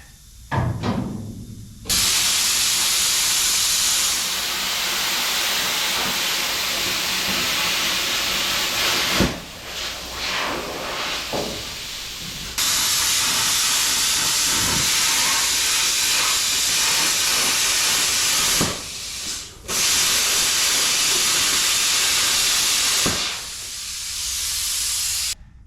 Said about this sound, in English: I'm just gonna go ahead and use the plasma. So if the air compressor kicks on, it might be a little loud.